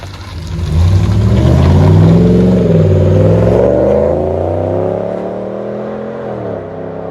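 A RAM 1500 pickup with a 5.7L engine and an aftermarket cat-back exhaust revs loudly and close, its deep note climbing through a long pull and then settling back to a lower, steady drone.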